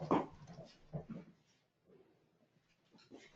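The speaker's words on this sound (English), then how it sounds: "I got a dog who is scratching my door because she doesn't like the door closed." A dog whines and yips in short bursts, with scratching against a closed door, close by and fairly quiet, pausing briefly midway before more whimpering.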